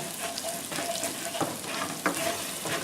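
A spoon stirs and scrapes the bottom of a frying pan while flour cooks into a roux in hamburger steak drippings, steady sizzling with intermittent scraping strokes close by.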